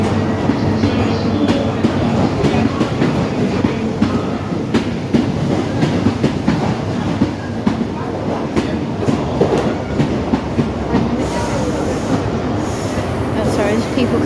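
A train pulls into a platform at Plymouth station, a loud, close, continuous rumble with clickety-clack wheel beats and high wheel squeal building toward the end.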